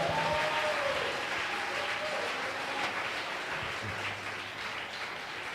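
A church congregation claps for the Lord, a broad, sustained round of many hands clapping at moderate distance, gradually easing in level toward the end with no speech.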